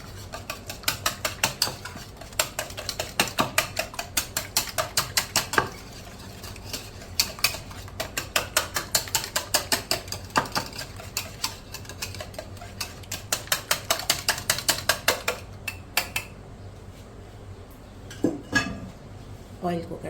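Eggs being whisked with black pepper and salt in a bowl for Lebanese kebabs, rapid, rhythmic clinking and tapping of a utensil against the bowl in steady bursts, close up, stopping briefly and resuming near the end.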